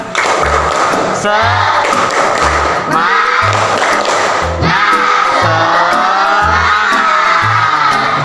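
Schoolchildren in an elementary classroom doing the tepuk semangat clapping chant: loud rhythmic patterns of claps and thumps in repeated bursts, with children's voices shouting along in unison over the beat.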